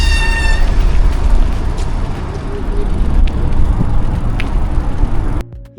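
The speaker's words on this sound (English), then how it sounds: "squeaky brakes" Squeaky bicycle brakes let out a short high squeal at the start of an evening seaside promenade ride, followed by steady rolling and wind noise.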